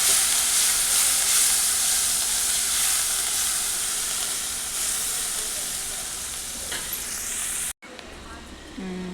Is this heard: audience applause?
no